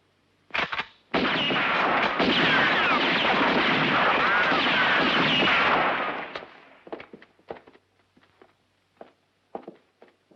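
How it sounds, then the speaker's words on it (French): A gunshot blasts open a lock in a French-dubbed Western film, a huge roaring report that sustains for several seconds, then fades into scattered crackles and knocks. "Fais sauter la serrure. Tire!"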